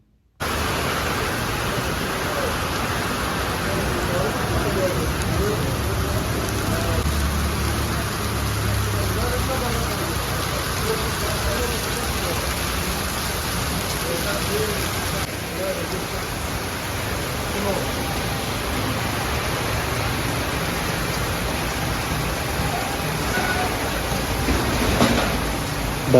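Heavy cold winter rain pouring down in Karachi, a loud, steady broadband hiss of rainfall with low traffic rumble underneath, lasting throughout with no voices.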